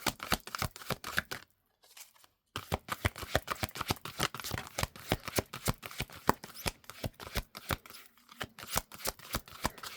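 Tarot cards riffle and snap in a quick, dense run of crisp flicks, a brief gap, then more rapid shuffling and drawing close to the microphone, with no talk.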